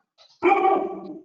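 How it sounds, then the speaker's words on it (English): One loud dog bark, close to the microphone and drawn out, heard alone after a brief faint sound during an online meeting. "sorry about my dog barking"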